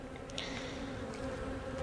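Honeybees buzz in a steady, close drone around a beekeeper's head beside hives just fitted with honey supers, and the hum holds even and unbroken.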